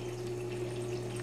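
Water flowing out of tubes in a saltwater reef tank, a steady soft rushing and bubbling over a constant low pump hum.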